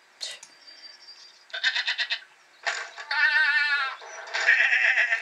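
Cartoon goats in a Hercules animated storybook game bleat in several separate bursts, loud, wavering and nasal, with short gaps between calls and no talk over them.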